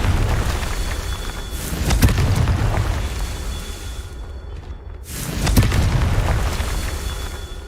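Confringo fire spells exploding in Hogwarts Legacy, a series of heavy booming blasts with rumbling low roar, a brief near-silent gap, then another loud burst.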